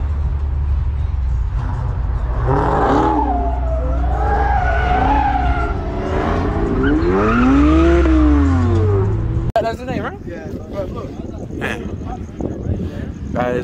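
A Dodge SRT Hellcat drifts with long, wavering tire squeals over a deep engine drone, loud and near, then cuts to rougher street noise; excited voices shout over it.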